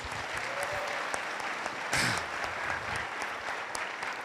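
Members of a church congregation applaud at a youth gathering, a steady patter of many hands at moderate level with a brief louder swell midway, sounding somewhat distant.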